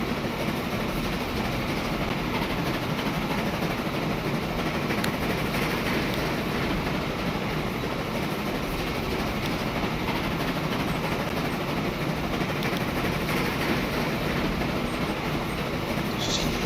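Steady, close rumble of a train running in Transport Fever 2, continuous rolling rail noise with faint clickety-clack, heard alone without talk.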